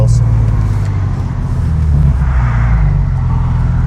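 A 1,400-horsepower car with a stage 4 stroker engine, Savage turbo kit, 7480 turbo and full exhaust drives along, giving a loud, steady, deep engine rumble that continues without a break throughout.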